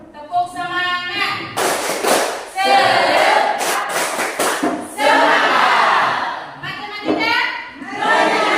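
A classroom of students standing and doing a rhythmic clapping cheer, loud broadband claps in bursts with shouted chanting voices mixed in throughout.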